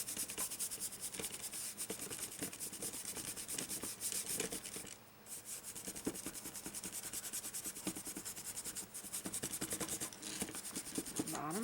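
Acrylic paint being rubbed with light pressure on a painted surface, a continuous soft scratchy rubbing heard up close and alone, with steady strokes and a brief pause partway through.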